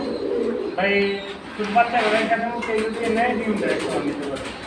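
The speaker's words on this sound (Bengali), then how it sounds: "এগুলো কিন্তু বড় সাইজের কবুতর" Large Hammer pigeons at a pigeon market coo softly in a close, steady murmur, with a person talking over the birds throughout.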